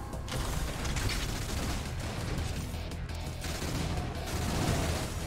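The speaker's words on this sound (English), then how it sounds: "So yeah, we could try super speed chain gun mode." A super speed chain gun in The Mothergunship fires in a dense, unbroken mechanical rattle of rapid shots, loud and continuous from start to finish, with no voices.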